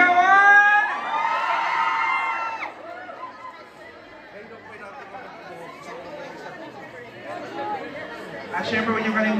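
A live audience at a promotional event for the show Sinagtal shouts and cheers, loud at first and then settling into a busy crowd murmur, with an announcer's voice heard over it near the start.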